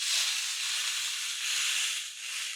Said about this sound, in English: we'll take it off and we'll give it a sear for about 45 seconds each side